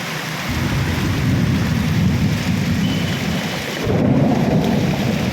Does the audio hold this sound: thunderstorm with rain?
yes